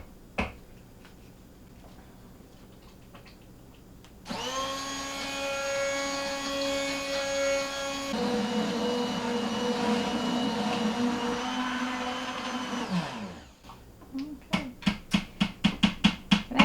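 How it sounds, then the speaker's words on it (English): An immersion blender whirs steadily through thick homemade apple butter for about nine seconds, its pitch dropping partway as the load shifts, then cuts off, followed by a string of quick sharp clicks. "You really need some kind of mixer or one of these little immersion blenders to mix this up."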